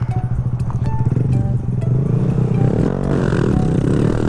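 Motorcycle engine on a beginner's first ride, a loud steady idle with low rumbling pulses that rise into a revving surge, with clatter and a scraping knock partway through.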